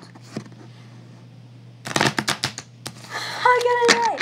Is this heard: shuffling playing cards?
yes